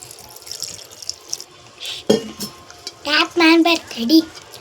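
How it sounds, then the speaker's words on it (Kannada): Water poured into a bowl of gram flour and rice flour batter for onion bhajji, a few splashing trickles and bursts of liquid close by, with no voices. "ಈಗ ಇದನ್ನು ಸ್ವಲ್ಪ ನೀರು ಹಾಕ್ಕೊಂಡು ಕಲಿಸ್ಕೊಳ್ಳೋಣ"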